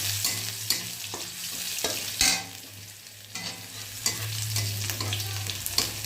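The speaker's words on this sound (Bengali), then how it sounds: "একটু রসুনটা ভাজা ভাজা হয়ে গেলে তারপর ওই শাকটা ঢেলে দেবো" Four or five chopped garlic cloves sizzle in hot oil in a pan while a spatula stirs them, steady frying hiss broken by repeated scraping strokes, close and moderately quiet.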